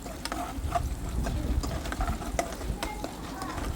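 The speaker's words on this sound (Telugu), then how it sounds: "ఆయిల్ వేడాక కొద్దిగా శనగపప్పు అండ్ మినపగుండ్లు వేసి కొద్దిగా ఫ్రై చేసుకోండి" Chana dal and urad dal frying in hot oil for a bitter gourd dish, a steady low sizzle with scattered crackles and light stirring throughout, close and moderately loud.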